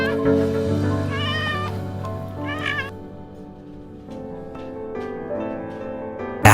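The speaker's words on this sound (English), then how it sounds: "Just by the sound of this cat's meow, you can instantly tell that it's in serious danger" A distressed cat meows repeatedly in loud, drawn-out wavering cries, close by and alone, with a steady background noise underneath.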